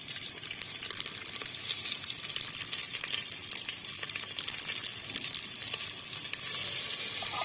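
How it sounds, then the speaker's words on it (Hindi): Onions sizzle in hot ghee in a pan, a steady close crackling hiss with watery bubbling texture, no voices over it. "घी हमारा जी गर्म हो चुका है और हम इसमें डालेंगे प्याज"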